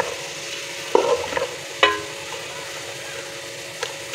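Onions frying in oil for biryani, a steady soft sizzle with a few brief scraping stirs of a spoon in the pan, close and moderately loud, no talk.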